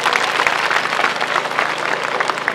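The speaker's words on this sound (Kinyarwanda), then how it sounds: "murakoze cyane mukomera amashyi menshi cyane." Applause from a crowd at a Gitega community gathering, a steady dense patter of clapping close by with no talk over it.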